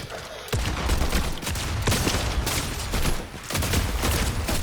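Heavy, booming shotgun blasts in Fortnite come in a rapid series of loud, close shots with brief pauses between them, set over background game sound.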